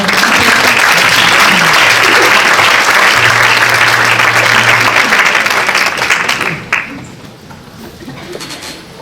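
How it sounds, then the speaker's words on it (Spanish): Loud, sustained audience applause at a civic ceremony marking the 45th anniversary of the Spanish Constitution in Leganés, with pigeons cooing faintly beneath it, before the clapping fades out near the end. "Recibamos un fuerte aplauso, por favor."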